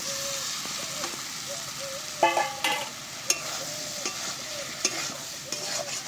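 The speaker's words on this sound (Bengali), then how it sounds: "এবার দিয়ে দিচ্ছি ভেজে রাখা কুমড়ো আর আলু" Fried pumpkin and potato pieces go into hot spice masala and sizzle steadily, with scattered spoon scrapes and stirring clinks close up, and no voices.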